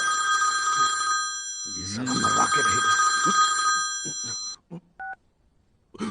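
A mobile phone rings with a bright electronic tone in a police-station film scene, the ringing running beneath a man's speech before stopping, followed by a couple of short beeps.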